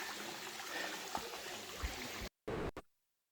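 Hot spring water in Thailand flows in a steady, close trickling stream, a continuous watery rush that cuts off abruptly near the end.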